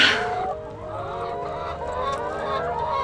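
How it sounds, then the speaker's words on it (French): Laying hens cluck and cackle continuously in a busy flock of about 1,350 birds scratching and pecking beside cows, close and fairly loud, with overlapping calls throughout. "on a des poules pondeuses à côté des vaches"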